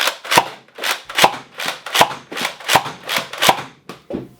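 A Nerf foam-dart blaster slam-fires in a steady run of about ten sharp, close snapping shots, each a crisp plastic crack followed by a brief pause, evenly spaced with no talking.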